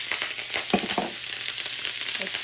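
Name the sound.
Brussels sprouts sizzling in a pan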